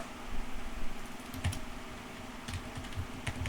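Someone types code on a computer keyboard in steady, soft clicking keystrokes over a low background hum, with no voices.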